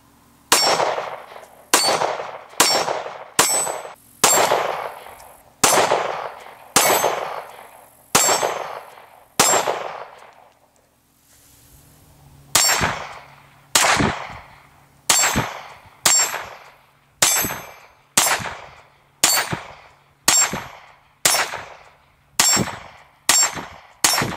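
Steel targets ring with sharp metallic clangs as shots strike them, about twenty hits in a steady, evenly spaced rhythm with one short pause, each strike loud, close and followed by a brief ringing decay.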